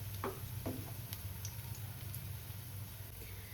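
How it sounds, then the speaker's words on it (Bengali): Cabbage pieces fry in oil in a pan over a low gas flame, giving a steady soft sizzle throughout with a few light clinks and stirring scrapes near the start. "এই কটাই আগে ভালো করে ভাজি, তারপর আবার বাকিগুলো ভাজবো।"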